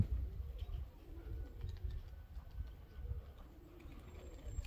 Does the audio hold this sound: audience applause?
no